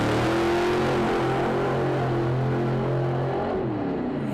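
A Pro Stock drag racing car roars at full throttle down the strip at Sydney Dragway, a loud, sustained engine howl whose pitch shifts before fading slightly at the end.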